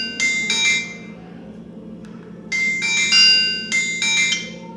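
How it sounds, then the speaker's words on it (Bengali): A ringtone plays on a Symphony L135 phone speaker: bright, bell-like chiming bursts in a repeating pattern, fairly loud with a short gap mid-way and a soft hum underneath. "তো আমরা একটি রিংটোন বাজাচ্ছি।"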